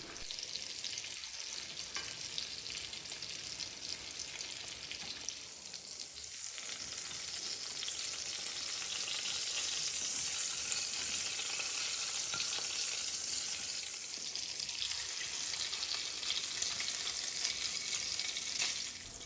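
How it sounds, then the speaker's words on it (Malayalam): Chicken frying on a medium flame in Indus Valley cookware makes a loud, dense, continuous sizzle that swells through the middle and stays close and steady. "അപ്പോൾ നമുക്ക് എല്ലാ ചിക്കനും നന്നായിട്ട് തന്നെ ഒന്ന് ഫ്രൈ ചെയ്തെടുക്കാം."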